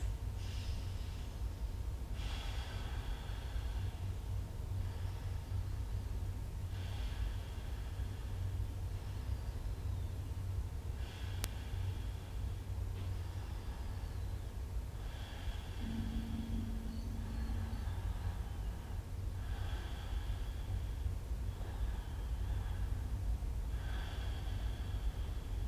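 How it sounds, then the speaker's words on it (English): Slow, deep nasal breaths taken while a yoga pose is held, a steady cycle of inhales and exhales over a constant low background hiss, with no voices. "I want you to hold this pose for 6 deep breaths."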